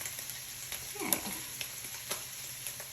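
Food frying in a pan gives a faint, steady sizzle with a few soft, scattered crackles and light clicks, heard close but quietly.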